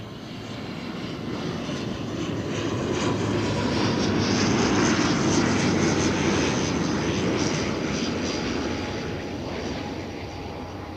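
An aircraft lands at Christchurch airport, its engine roar swelling from moderate to loud as it passes close, peaking midway, then easing off again as it rolls away.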